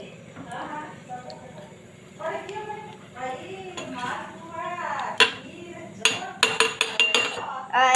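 A utensil stirs Maggi noodles in a cooking pot, giving scattered metallic scrapes and clinks that grow sharper and more frequent toward the end, while a person talks over part of it.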